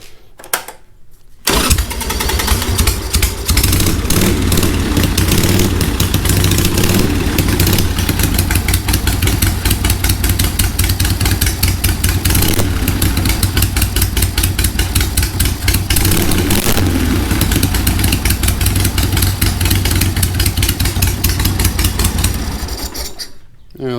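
A 1982 Harley-Davidson Sportster Ironhead chopper, a rescued bike with its choke just set, fires up and runs loud and close, a rough, pulsing V-twin rumble that holds steady for about twenty seconds before cutting off.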